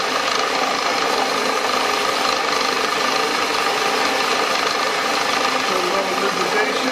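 A DIY dividing head's 60-to-1 worm drive runs fast while hobbing a gear, giving a steady, loud mechanical whir with constant broadband grinding and rattling throughout.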